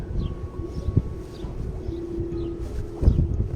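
Wind blows steadily outdoors on a cool, sunny day, a soft broadband rush that swells briefly near the end, with faint bird calls in the distance.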